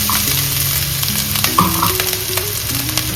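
Grated coconut dropped into hot oil for a roasted-coconut chicken curry fries with a loud, close, continuous sizzle, while stirring scrapes the pan and no one talks.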